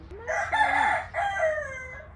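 A rooster crows loudly and close by, one long drawn-out call rising and then trailing off, with a brief break partway through.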